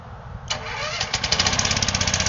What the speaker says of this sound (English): start the gas engine with the remote